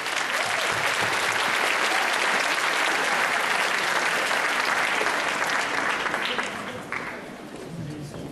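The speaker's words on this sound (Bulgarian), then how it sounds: "моля вашите аплодисменти за госпожа Иванка Сотирова." Audience applause at a ceremony honouring a guest, a dense, steady clapping from a full crowd for about six seconds before thinning and fading toward the end.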